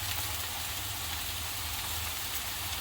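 Hand-torn oyster mushrooms frying in a pan, giving a steady, even sizzle that stays at the same level throughout, close by and with no talking.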